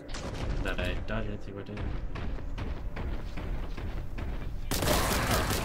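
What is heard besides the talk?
grenade explosions in the video game Warhammer 40,000: Boltgun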